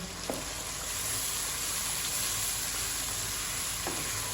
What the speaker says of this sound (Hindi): दही को अच्छी तरह से मिक्स करेंगे हम